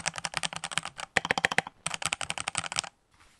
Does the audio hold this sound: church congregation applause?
no